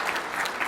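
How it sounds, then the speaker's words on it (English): Brief, faint applause from an audience at a university campus event, a soft wash of clapping heard from a distance. "we can clap for him"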